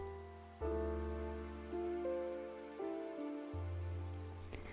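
Steady rain falls in a video game, probably Minecraft, as a soft, constant hiss, with sustained game tones layered over it.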